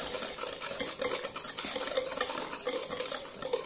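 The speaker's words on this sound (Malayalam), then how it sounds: "എന്നിട്ടൊന്ന് മിക്സ് ചെയ്തെടുക്കുക." Vanilla essence mixed into jackfruit cake batter in a bowl, a steady wet churning and scraping of rapid stirring, close and continuous with no pauses.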